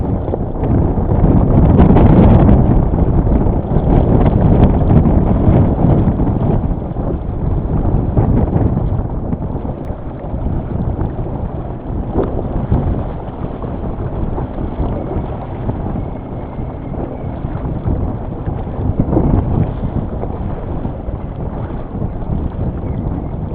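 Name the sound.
strong wind gust while sailing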